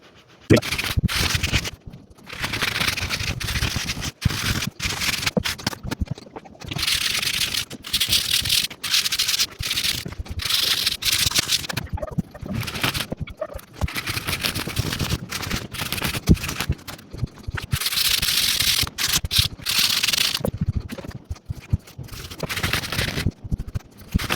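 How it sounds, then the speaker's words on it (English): The glued edge of a leather wallet is burnished in repeated rhythmic rubbing strokes, a dry, close scuffing that runs in bursts with short pauses between them. "Some people will spend literally hours on the burnishing."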